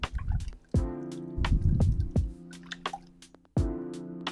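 Yeast and sugar mixture stirred for pizza dough, with close wet clicks and sloshy scrapes in an irregular rhythm, one longer swirling stretch in the middle.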